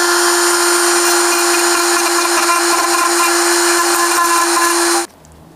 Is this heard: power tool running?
yes